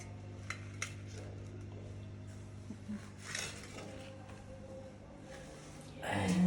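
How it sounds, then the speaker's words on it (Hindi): Dishes and utensils clink and clatter in a home kitchen as an omelette is set onto a plate, with scattered light knocks over a steady hum and a louder clatter at the end. "अभी मैं इसको रख दूँ उस प्लेट के अंदर।"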